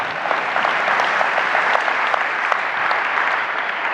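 Steady, dense applause from a large keynote audience at SAP Sapphire in Orlando, loud and even throughout with no pauses.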